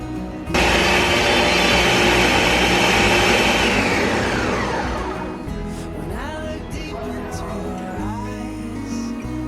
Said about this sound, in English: this is about ready to go in the blender